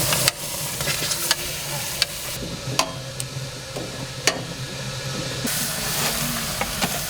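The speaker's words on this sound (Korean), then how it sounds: "우유통에 양고기와 빨갛게 달궈진 돌을 함께 넣어 증기로 익혀먹는 음식이다." Mongolian khorkhog cooking, mutton and red-hot stones steaming inside a milk can: a steady hissing, sizzling steam bed with sharp intermittent clicks and knocks over a low rumble, fairly loud and close, no talking.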